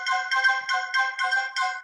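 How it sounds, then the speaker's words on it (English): An iPhone text message alert tone plays alone as a bright, repeating electronic chime, six short melodic pulses in quick even rhythm, clear and fairly loud with no voices. "Text tone would be a sound that happens when you get a text message."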